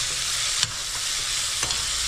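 Mopane worms fry in a pan, a dense close sizzle with a couple of distinct scraping stirs cutting through.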